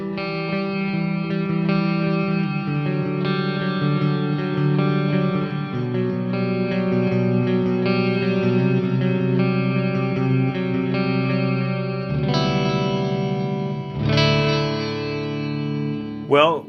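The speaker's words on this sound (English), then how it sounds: "Let's bring the reverb up a little bit more for that ambiance and the mix on the delay." Electric guitar played through the WaveMind Tone Suite Distant amp sim with delay and reverb turned up, sustained heavy chords ringing in a wide echoing wash, the pattern shifting partway through and ending in a sliding squeal.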